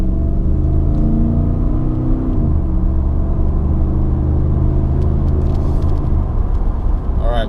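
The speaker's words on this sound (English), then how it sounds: "And then we're gonna put it in reverse." A pickup truck cruising at about 55 mph on a slippery road hums with a loud, close engine and drivetrain drone; partway through the tones bend and shift as the gear changes, and a rising whine creeps in at the very end.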